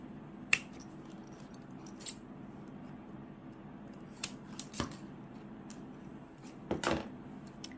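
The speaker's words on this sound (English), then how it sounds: "we're just going to cut off the excess zipper" Scissors snip through excess zipper tape in a quiet room, a few sharp separate cuts spread across several seconds with a cluster of clicks near the end.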